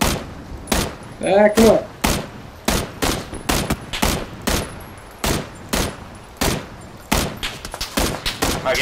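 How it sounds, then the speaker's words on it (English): Sharp, loud gunshots from a shooting video game ring out one after another in an irregular rhythm, close and punchy, with a player's brief voice cutting in between shots. "They're shooting somebody else."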